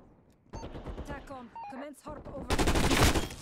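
GRAV rifle fire in Call of Duty breaks out as a rapid, loud burst near the end. A player talks just before it starts.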